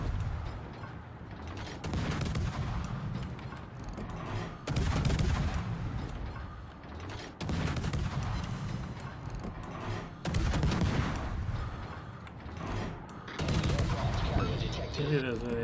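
Naval guns on the Daring destroyer boom repeatedly in World of Warships, loud salvos and rumbling explosions dominating throughout over continuous battle noise, with no clear talk.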